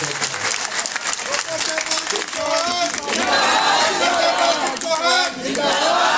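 Crowd at a BJP election campaign rally breaks into loud, sustained applause and cheering, building in strength and continuing under a voice on the public address.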